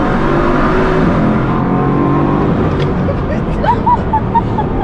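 A Bugatti Chiron, 1,500 horsepower, accelerates with a loud sustained engine drone that rises in pitch, heard from inside the cabin with faint speech over it.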